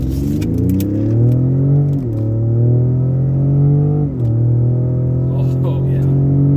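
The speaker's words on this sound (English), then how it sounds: "I expect this turbo to really kick in as soon as I punch this thing." A turbocharged 3.5-liter V6 Raptor pickup's engine revs up under hard throttle, a close rising drone that climbs in pitch, drops at each gear shift near two and four seconds, then pulls steadily again inside the cab.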